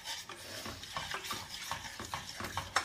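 Golden milk made with coconut oil, turmeric and cinnamon gets stirred in a pot as it warms. A spoon makes a steady run of soft scraping swishes with a faint sizzle, quiet and close, with no talking.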